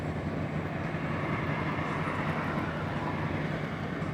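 The thruster on the lake freighter Wilfred Sykes runs as a steady, heavy low rumble with a broad churning wash, constant and unbroken throughout, heard from close by at a lock.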